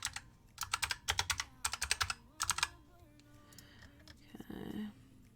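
Quick bursts of typing on a computer keyboard, clustered keystroke runs separated by short pauses, fairly close and alone, with a brief soft rustle near the end.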